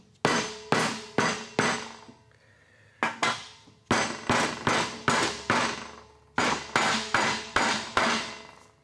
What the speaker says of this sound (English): you can put your makeshift race driver perfectly square on it and just give it some taps